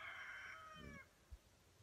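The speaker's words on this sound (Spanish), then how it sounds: "A lo mejor a alguien le gustaría ser gallo para cantar así." A rooster crows once, a faint, distant drawn-out call lasting about a second, followed by a few low thuds in otherwise quiet surroundings.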